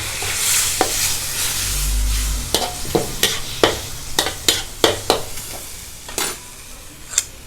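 Blanched jellyfish stir-fried in a hot pan for a Thai basil dish, a steady sizzle broken by a run of sharp scraping stirs and clinks of the spatula, close and alone.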